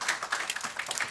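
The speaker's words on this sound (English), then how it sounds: "Please give them a round of applause." An audience at a diaspora panel event gives the panelists a brief burst of applause, with quick, close, uneven claps overlapping for about a second.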